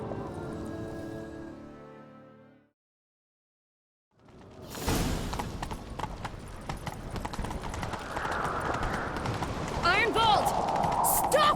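Horse hooves clip-clop at a quick gallop in The Witcher 3, a steady drumming rhythm that starts after a brief silence and runs on beneath game music and voices.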